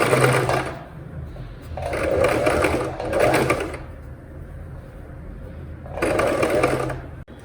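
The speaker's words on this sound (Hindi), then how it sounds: "मैं स्टिच कर रही हूँ" Sewing machine stitching a sharara garment runs in three loud, steady bursts of fast mechanical whirring, separated by short quieter pauses, with no talk.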